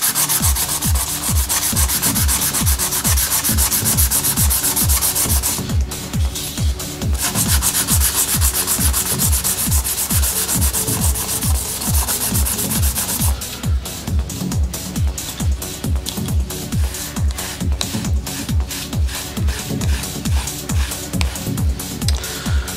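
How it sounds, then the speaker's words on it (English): Steady rhythmic scrubbing of 400 grit wet and dry sandpaper rubbed back and forth across a PCB, close and loud, with fast regular strokes and a brief pause partway through. "what we have here is a 400 grit sandpaper, wet and dry, and we'll just quickly rub this on top."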